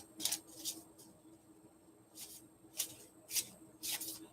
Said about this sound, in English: Okay, I'm going to shuffle again.